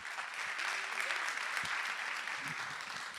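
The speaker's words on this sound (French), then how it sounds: "Sous vos applaudissements, s'il vous plaît." A conference audience in Limoges claps together for a steady stretch of applause, dense and continuous, heard somewhat distant and moderately quiet.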